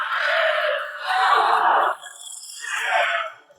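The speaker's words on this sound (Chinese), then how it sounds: "紧接着从口中发出一股强烈的超音波" Shriek's ultrasonic scream attack from the film Venom 2, a loud, shrill, piercing screech in two sustained bursts with a short dip between them, then a fainter trailing cry.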